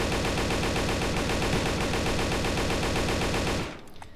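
Rapid automatic AK rifle fire in the shooter game Darkest Days, a loud, continuous stream of closely spaced shots for about three and a half seconds before cutting off abruptly into quiet.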